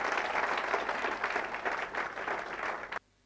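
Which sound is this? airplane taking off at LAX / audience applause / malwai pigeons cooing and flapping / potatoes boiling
audience applause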